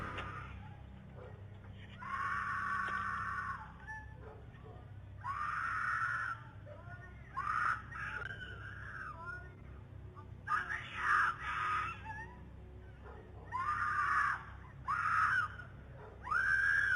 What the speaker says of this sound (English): The source of the woman's frightening screams came from within the open trunk.